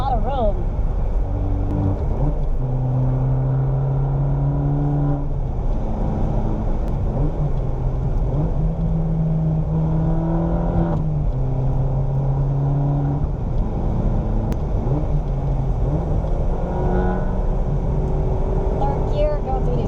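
A Fiat 500 Abarth driven in third gear through corners at about 4,500 RPM, heard from inside: a continuous engine drone whose pitch rises and falls with the throttle over steady road rumble.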